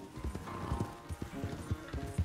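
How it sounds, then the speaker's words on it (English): Horse hooves clip-clopping in the video game Red Dead Redemption 2, a steady close rhythm of hoof beats at a walk or trot, loud and clear with almost no speech. "Where's that big mean horse?"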